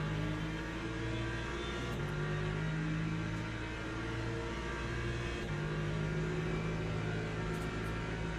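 A BMW race car in the Le Mans Ultimate sim racing game: a steady droning engine tone that shifts pitch in stepped gear changes, running continuously at moderate level with no talk.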